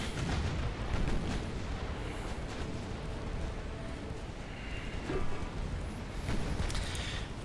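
Battleship guns firing during a naval battle in the Ultimate Admiral Dreadnoughts game, a steady, dense roar of distant cannon booms blending into continuous rumbling with no clear pauses.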